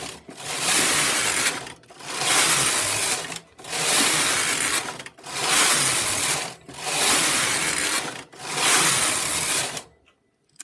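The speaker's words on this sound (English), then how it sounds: "I'll knit a few rows of this, and then I'll do a slip stitch pattern" Double-bed knitting machine carriage sliding back and forth across rows, six loud rasping mechanical passes in steady rhythm with brief pauses between strokes, close and alone.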